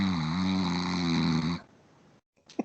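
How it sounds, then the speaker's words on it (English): A man snoring inside a dark, rickety shanty-like home: a steady, loud rumbling snore drone for about a second and a half, then it breaks off into near silence with a brief faint knock near the end. "the sound of a snoring man coming from inside."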